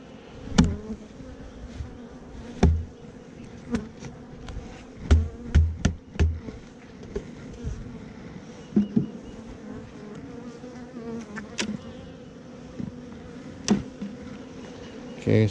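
Honey bees buzz steadily around an open hive with a feeder, a continuous close drone broken by sharp bumps and clicks as bees bounce off and the hive is worked.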